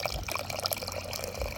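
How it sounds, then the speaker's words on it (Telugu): Mineral water is poured into a glass during outdoor cooking in a garden, a brief close gurgling trickle with small bright splashes lasting under two seconds. "గ్లాస్ పోసుకుందాం."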